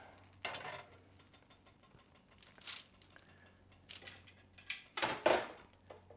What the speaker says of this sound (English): now that the butter is getting nice and hot, starts to sizzle